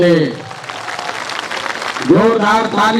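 Crowd applause at a party founding convention, continuous clapping under a loud amplified voice that speaks at the start and end.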